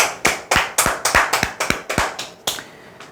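Crisp hand claps ring out at a Korean sales seminar, about a dozen sharp, evenly spaced claps in a quick steady rhythm, close and clear with no talking.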